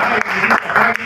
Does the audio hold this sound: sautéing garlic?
no